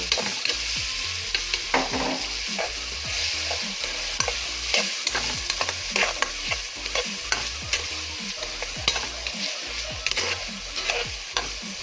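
Processed ham sizzles and crackles in a hot pan with garlic, steady frying under repeated scraping and stirring strokes at a close, moderately loud level.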